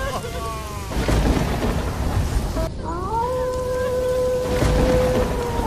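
Heavy rain pours steadily and loudly as thunder rumbles through it, with a sharp crack partway through and low booms under the downpour.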